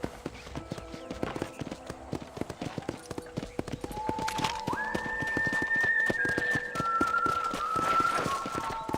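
Horses clip-clop in a steady trotting rhythm at a ranch corral in Red Dead Redemption, followed by drawn-out whinnying calls layered over the hoofbeats and soft ambient wind.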